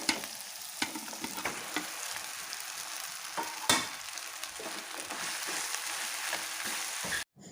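Soaked puffed rice is stirred into green chili paste in a hot pan. A quiet, even sizzle runs throughout, punctuated by sharp spatula taps and scrapes, before ending abruptly.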